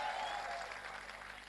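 An audience at a Hindi comedy poetry gathering claps, a dense, even wash of applause from a crowd that stays steady throughout, with no voices above it.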